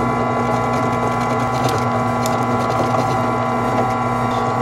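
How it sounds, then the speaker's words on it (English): Steady grinding, whirring cutting noise from a sawzall blade held against a brass hammer piece spinning on a lathe, with a constant motor hum running continuously and loudly throughout, no voices. "Let's try a sawzall blade."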